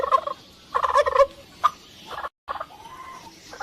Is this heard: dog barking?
no